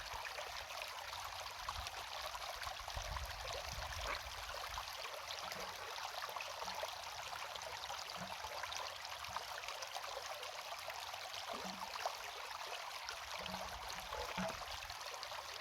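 A homemade sucker bottle with a larger hose draws up water, dirt and gravel while gold prospecting, giving a steady, continuous watery rushing and gurgling, with occasional small knocks of gravel underneath.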